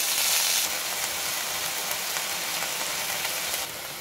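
Ginger sautéing in hot oil for a mint pickle, a loud dense continuous sizzle that holds steady close up, easing slightly at the very end.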